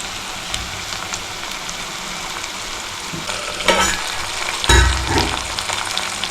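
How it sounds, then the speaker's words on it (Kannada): Stuffed bitter gourds sizzle in a pan with cooked onions, a steady close frying crackle with a few louder stirring scrapes and bursts of spattering. "ಈಗ ನಾವು ಸ್ಟಫ್ ಮಾಡ್ಕೊಂಡಿರೋಂಥ ಹಾಗಲಕಾಯಿನ ಇದಕ್ಕೆ ಆ್ಯಡ್ ಮಾಡೋಣ"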